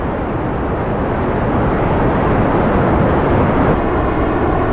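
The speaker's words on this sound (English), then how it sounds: "7 jet engines, rocket engines, so we fired at once." Several jet and rocket engines firing at once in Kerbal Space Program, a loud, continuous roaring rumble that holds steady without a break, with no talking.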